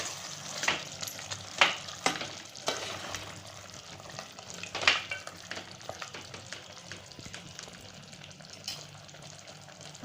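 A spicy chicken curry cooks in a pan as an onion-coconut paste is added to cooked tomato and stirred, giving a quiet steady sizzle broken by a few scraping stirs and clinks.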